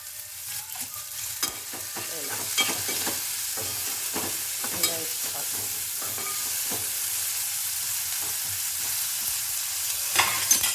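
Onions with salt sautéing in a pan: a steady soft sizzle with repeated scraping and clinking stirring strokes throughout, close by and with no voices.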